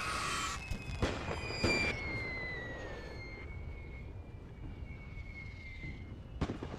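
Artillery fire in a Great War strategy game: a few sharp distant booms and cracks over a low rumbling backdrop, with thin whistling tones trailing across, fairly faint overall.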